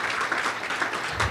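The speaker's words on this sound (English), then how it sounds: "Please give another round of applause for our panelists" A conference audience applauding its panel of doctors, a dense, even patter of many hands heard briefly in a hall.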